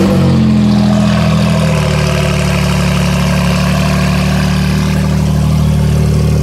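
A loud, deep Porsche engine with a modified exhaust idles steadily with a heavy, throbbing exhaust rumble, close by and unbroken, with no voices.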